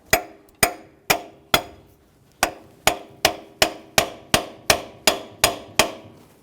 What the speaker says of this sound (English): you can use a hammer and punch. We'll give it a couple loving bonks to cause some vibration.